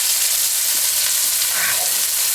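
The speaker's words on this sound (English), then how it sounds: "We're going to cook the patties for 3 minutes on this side." Mexican chorizo burger patties fry in hot oil in a pan over medium heat, giving a loud, steady, close sizzle that crackles continuously with no talk.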